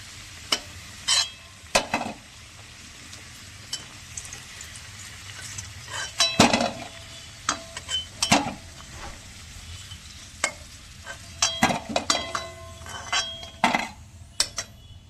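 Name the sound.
frying whole spices in a pan for mutton curry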